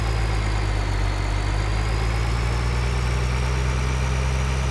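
A farm tractor engine in a farming simulator game runs at full throttle while rolling downhill, a steady, loud, unbroken drone with a deep low hum and no change in pitch throughout.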